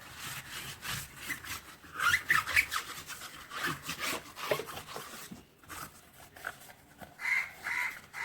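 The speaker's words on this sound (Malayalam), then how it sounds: "അതിനുശേഷം വെറുതെ ഈ സ്ക്രബ്ബർ ഇട്ടൊന്ന് വരയ്ക്കുകയാണ്" A scrubber rubs back and forth against an old tyre in steady, rhythmic strokes, close and fairly loud.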